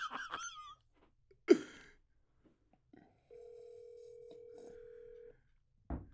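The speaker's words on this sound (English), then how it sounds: "I'm calling Simone." Telephone dial tone: a single steady tone holds for about two seconds mid-clip, with brief clicks and short vocal sounds around it and no other speech.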